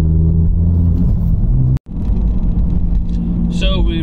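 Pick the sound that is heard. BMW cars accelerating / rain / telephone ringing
BMW cars accelerating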